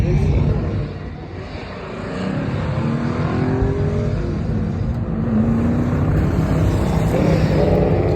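Race cars run on an oval track in the Wenatchee Valley, engines revving and climbing in pitch as they accelerate, loud and continuous with a brief dip before building again.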